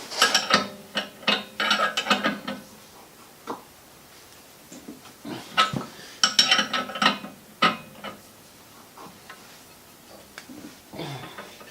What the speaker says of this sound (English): I found the wrench.